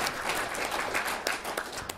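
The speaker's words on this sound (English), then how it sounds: "nice round of applause for Sue." An audience claps warmly to welcome Sue Grabowski, CEO of Desidara, as a guest judge at a college Shark Tank final, a dense steady round of applause filling the hall with no voices over it.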